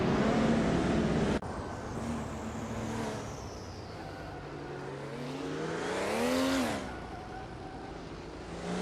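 Race cars, among them a 1996 Toyota Supra JGT, roaring past with engine drone rising to a loud revving swell, after a sharp click at the start.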